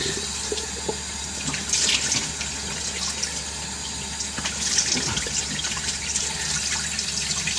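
Ice-cold water runs steadily from a sink tap, a constant close hiss with small splashes and clinks from washing at the basin.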